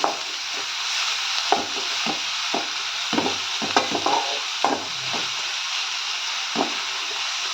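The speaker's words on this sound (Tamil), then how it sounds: "இப்போ வந்து கேரட்டு கொஞ்சம் மல்லித்தலை இதில் சேர்த்துக்கிறேங்க இது ஒரு ரெண்டு வதக்கு வதக்கிக்கலாம்" Carrots and coriander leaves sauté in a pan with a gentle, constant sizzle, while a spoon scrapes and stirs at an irregular pace.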